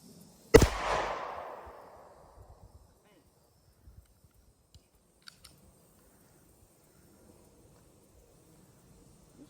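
Single sharp gunshot at an outdoor shooting range, one loud crack with a fading echoing tail, followed by faint scattered clicks and quiet surroundings.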